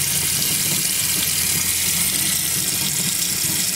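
Water runs steadily from the Roadtrek RV's quiet onboard pump as the tank fills, a constant close hiss with no break throughout.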